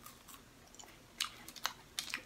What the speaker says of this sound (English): Got a Kit Kat crunch.